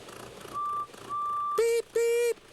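Bus horn on the cartoon bus Bertie from Thomas & Friends, two loud, close honks in quick succession after a faint steady whistle tone, with no talk over them.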